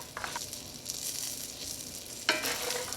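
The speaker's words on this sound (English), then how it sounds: "once your nuts have toasted for about a minute" Nuts toasting in a pan for candied nuts, giving a steady soft sizzle with faint stirring scrapes and a brighter clatter of movement near the end, heard alone without talk.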